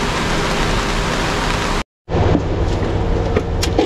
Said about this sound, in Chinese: 都是过路雨